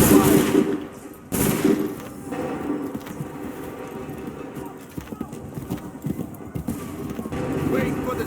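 Gunfire crackles in the video game Assassin's Creed III Remastered, sharp volleys and rapid shots mixed with clopping horse hooves, whinnies and shouted voices over a busy battlefield.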